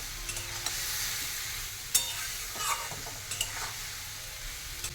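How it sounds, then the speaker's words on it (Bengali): Spice paste with a splash of water, including Kashmiri chilli powder, being sautéed in a pan: a soft continuous sizzle with a few light spatula scrapes and taps, fairly quiet and close, no voices. "একটু দেবো জল, মশলা কষা"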